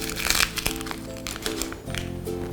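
A plastic ingredient packet is torn open by hand without scissors while making Congolese mikate, with sharp crinkling and tearing crackles in close bursts.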